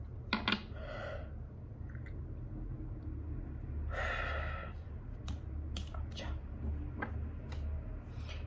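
A person yawns with a long, breathy inhale and exhale, with a short gasping breath at the start and quiet room noise throughout.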